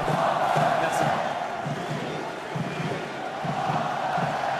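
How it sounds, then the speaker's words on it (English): Stadium crowd at a Montpellier versus Clermont Top 14 rugby match roars steadily, with loud sustained cheering and rhythmic swells of noise throughout, no clear voice on top. "The crowd is still cheering."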